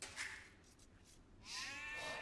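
Sheep bleating in Age of Empires II: two short, faint bleats at the start and a longer one near the end, over quiet game ambience.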